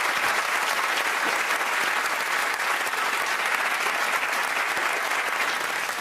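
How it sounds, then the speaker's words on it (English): Studio audience applause for a comedy panel show's mascot, a continuous, even wash of clapping that holds at full strength from start to finish. "Give him a round of applause."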